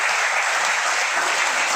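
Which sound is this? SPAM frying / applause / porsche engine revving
applause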